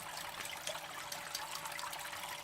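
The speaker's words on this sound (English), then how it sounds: "throw a little bit of that frog piss in there, shake it up, watch it all fall down" Water sloshed and shaken in a small container while settling fine gold with a settling additive, a close continuous liquid swishing and splashing without speech.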